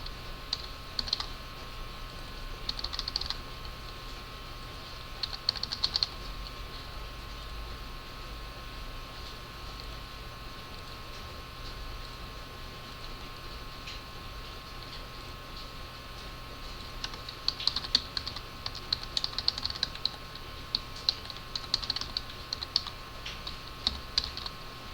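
Someone types details into a form on a computer keyboard, with soft clicking keystrokes in short bursts at the start and again near the end over a steady electrical hum and background hiss. No one speaks.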